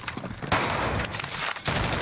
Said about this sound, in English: Give me that shotgun, dude.